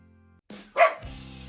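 A single short dog bark, fairly close, breaking a quiet background with a faint hum.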